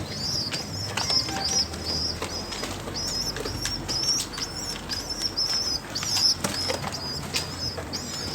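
Fancy pigeons flap their wings in repeated bursts while feeding on mixed grain, with soft coos and chirps mixed into a close, busy flock.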